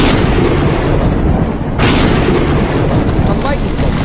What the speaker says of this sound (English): and thunder and lightning arose.